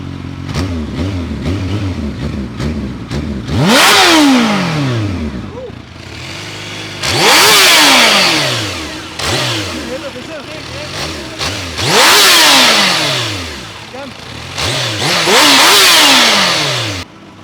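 A Kawasaki Ninja H2 motorcycle warms up on a road trip, its engine revving hard in repeated loud bursts that rise and fall between idling stretches, with speech in the background.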